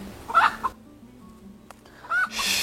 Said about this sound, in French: on peut même pas parler sans qu'il y ait une poule